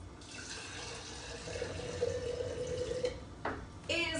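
Distilled water pours into a sprouting jar of broccoli seeds, a steady close trickle that runs for a couple of seconds, then stops with a few small splashes and a brief clink at the end.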